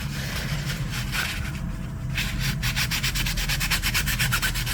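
Sandpaper rubbed by hand against a surface in steady back-and-forth strokes, with the rhythm becoming quicker and more regular in the second half; the scraping is close and continuous, with no talking.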